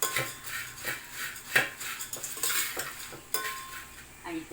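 A spoon scrapes and clatters against a pan while mixed puffed-grain chivda is tossed with sugar and amchur powder, giving close, lively, irregular clinks and rustles with no talking.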